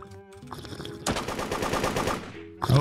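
Rapid bursts of gunfire in the Roblox game Da Hood, a dense automatic-weapon volley lasting over a second and a half, loud and close, with a faint game tone before and after it.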